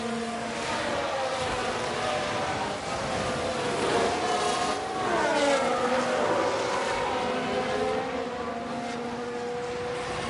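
Formula 1 race cars in the F1 Manager 23 racing game whine past in a steady, continuous engine drone, pitch sweeping up and down through gear changes as cars run close together, loud throughout with no talk.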